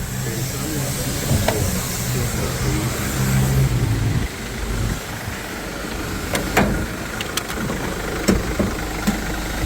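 A minibus engine runs at a steady low idle nearby, with a faint hiss and a few clicks, as a voice talks over it.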